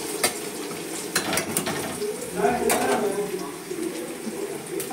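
Onions sizzle and fry in a pan while being stirred, a soft crackling with a few brief clicks and scrapes of a utensil, fairly quiet and close.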